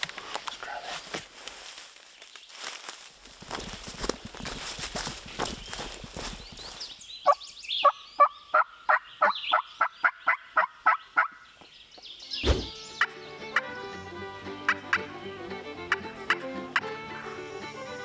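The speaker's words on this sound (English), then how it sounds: "finally got a turkey to gobble" A wild turkey gobbles far off during a spring turkey hunt, its calls coming as a series of rapid, evenly spaced bursts mixed with rustling and footsteps in the woods.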